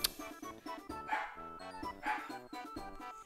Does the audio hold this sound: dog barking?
yes